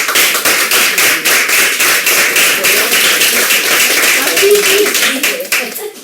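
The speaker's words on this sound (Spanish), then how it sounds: "fuerte el aplauso para Luz" Rapid, dense clapping from a group, loud and sustained for several seconds, with a faint voice underneath near the end.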